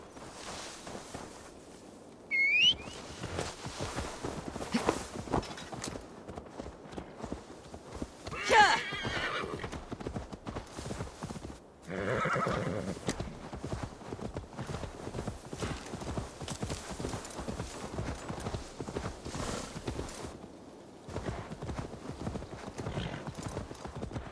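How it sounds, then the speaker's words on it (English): In Assassin's Creed Valhalla, hooves clip-clop steadily as a horse walks, and a horse whinnies a couple of times, with faint rustling ambience behind. "Now to deliver Magni his horse."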